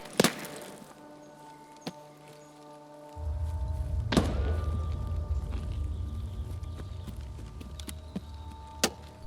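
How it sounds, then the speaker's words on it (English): Gunfire from another player sounds in a sniping match: a few sharp, distant-sounding shots are spaced irregularly over a low rumbling background that rises partway through. "Somebody else is shooting."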